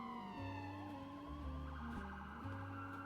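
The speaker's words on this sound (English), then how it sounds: "I heard some loud sirens going every which way." Loud police sirens wail continuously, several overlapping tones rising and falling together, with a low engine rumble underneath.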